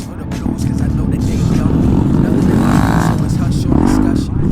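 A motorcycle engine drones loudly and steadily as the bike rides in circles, its pitch rising and falling a little, with people talking over it.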